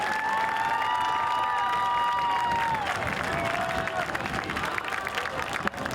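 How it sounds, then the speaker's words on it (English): Audience applause for an honoree at a Hilton Head High School induction ceremony: sustained clapping mixed with cheering and high whoops and calls from the crowd, loud at first and gradually thinning toward the end. "Let's give another round of applause for Sean Smith."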